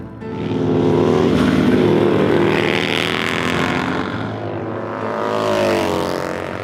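A racing motorcycle engine is pushed hard and sustains a loud, close, high-revving whine with shifting pitch that rises, dips and climbs again. No one speaks over it.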